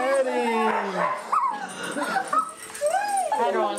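A dog whimpers in rising and falling whines and gives a few short barks and yips, close by, with people talking over and around it in a home.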